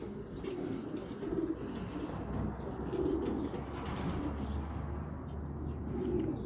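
Steady, low pigeon cooing repeats in soft rolling phrases, close by at a pigeon loft in Steenokkerzeel, Belgium, over a faint background hum with no talking.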